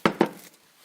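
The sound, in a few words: bowl of porridge being put down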